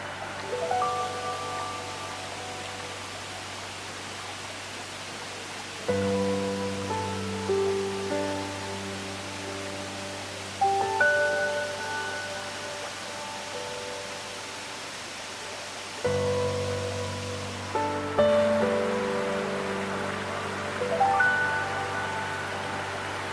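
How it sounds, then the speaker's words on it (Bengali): A waterfall on a trek in Meghalaya pours down and runs off along a channel, giving a steady broadband rush of falling water. It continues throughout under a layer of sustained musical tones. "এটা হচ্ছে প্রথম ওয়াটারফল, দেখতে কত সুন্দর দেখুন। এখান থেকে জল পড়ছে আর এই দিক দিয়ে চলে যাচ্ছে"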